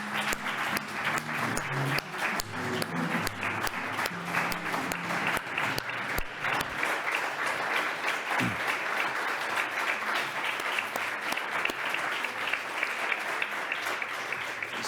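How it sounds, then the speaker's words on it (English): A standing audience at a European business awards ceremony claps for the event organizers, a dense, sustained round of applause from a large crowd that stays steady and full throughout. "So I would like everyone just to stand up and we can clap and thank all the organizers"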